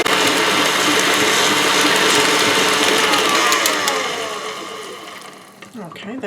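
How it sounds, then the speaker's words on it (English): A stand mixer with a paddle attachment churns chocolate hazelnut cheesecake pudding, giving a loud, steady mechanical whir that fades and slows toward the end as the motor winds down. "Okay, now let's turn this back on and we'll mix this up."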